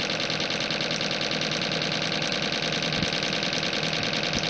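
Newman motor with a 12 inch magnetic rotor spinning at high speed, giving a steady, dense mechanical whir with a fast rapid chatter like a sewing machine, constant and close throughout with no talk.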